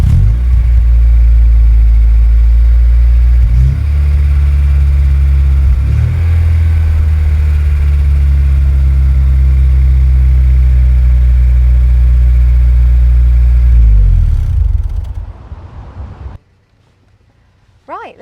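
A Ford Sierra Sapphire's engine runs loud and close from the rear of the car, a deep steady drone with a few brief revs before it cuts out near the end, leaving quiet.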